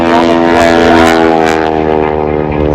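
A Stearman biplane at an airshow carrying a wing walker roars past with a loud, droning radial engine and propeller hum, steady and close with a slight fading toward the end.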